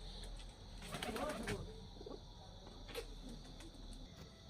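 Pigeons coo at a pigeon farm, faint and distant, with soft cooing bursts under low background hum and a voice speaking nearby.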